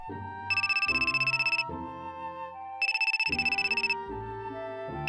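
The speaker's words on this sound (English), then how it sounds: "my phone rang" A telephone rings in repeated bursts of electronic trilling over a melodic tune, two ringing phrases a couple of seconds apart.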